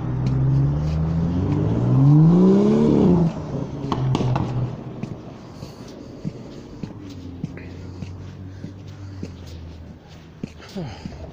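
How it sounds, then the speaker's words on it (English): A car passes close by on a road, its engine rising and sweeping in pitch during the first three seconds before fading into a low rumble of background traffic. "I guess the car just went by"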